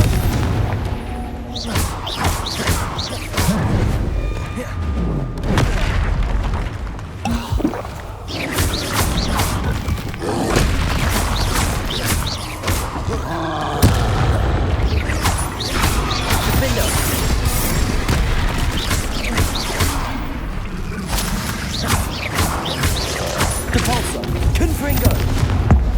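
Confringo fire spell explosions in the video game Hogwarts Legacy, dense bursts, booms and crackling combat clashes, loud and continuous, with a voice calling out over the action.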